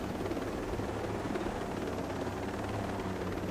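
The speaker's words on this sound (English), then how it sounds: "don't fuck up my helicopter" A helicopter in Ghost Recon: Breakpoint drones steadily with a constant rotor chop and engine roar, even in level and moderately loud, with no speech over it.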